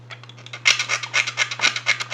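A fingernail scratches across the ridged layer lines of an unsanded 3D-printed part, giving a close, dry rasping in about seven quick rhythmic strokes over a steady low hum.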